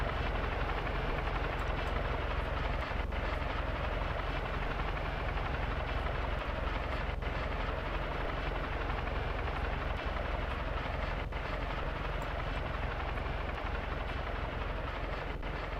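Aircraft engines roar as two display planes prepare for an aerobatic show in a Roblox game, a loud steady droning rumble that runs unbroken throughout.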